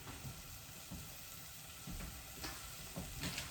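Onions sautéing in a pan for French onion soup, a soft, steady sizzle with occasional faint stirring scrapes, quiet and close, with no voices.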